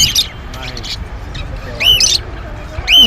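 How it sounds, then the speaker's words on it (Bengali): Birds at the old traditional Hemayetpur bird market give sharp, harsh squawks in a few bursts, loud and close, over a murmur of crowd noise. "বন্ধুরা এখানে কিন্তু বিভিন্ন ধরনের পাখি দেখতে পাচ্ছেন"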